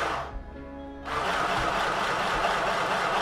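Akiara mini sewing machine running continuously, a loud, dense mechanical whir that shifts in tone after about a second and then holds steady.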